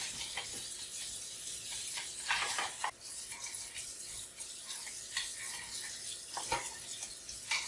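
Necta Krea Touch coffee machine parts being washed under running water, a steady close splash and trickle broken by occasional louder knocks and clatters of parts being handled.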